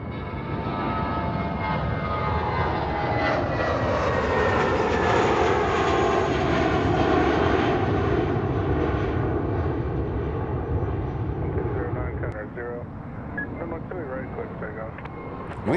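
A Delta jet airliner roars down FLL runway 28R on takeoff, a loud, sustained broadband engine rumble that holds strongly and then thins slightly as it climbs away, with no talk.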